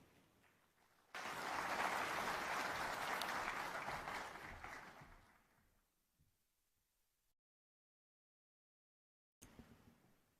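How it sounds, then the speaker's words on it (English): Applause from a conference audience at an identity conference in Nairobi: loud and full for about four seconds, then fading out into silence, with faint sound returning near the end. "Another round of applause for Executive Chairman."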